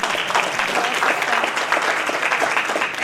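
Steady audience applause at a community holiday gathering, a dense, even wash of clapping from a crowd lasting the full few seconds with no break.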